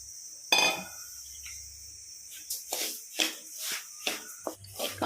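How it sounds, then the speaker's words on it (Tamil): Pearl millet roasting in a pan gives off a series of scraping, clinking stirs against the metal and grainy rustles, close and irregular, after a faint high hiss; nobody talks. "கம்பு வந்து நல்லா மெரூன் கலருக்கு வறுத்து எடுத்துக்கணுங்க"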